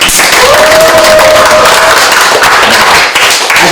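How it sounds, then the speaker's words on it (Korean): Loud, close applause and clapping from supporters at a National Assembly candidate's campaign office opening in Gumi, South Korea, a full continuous burst that dips briefly near the end, with a faint steady tone early on. "다시 한번 박수 드리겠습니다."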